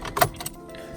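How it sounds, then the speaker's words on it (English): A Skoda Octavia's ignition is switched off and on with the key, giving one brief close jangle and click against a quiet interior. "Let me cycle the ignition"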